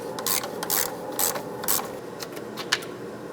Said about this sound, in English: Now I'm gonna grab a long ratchet, try to break these free.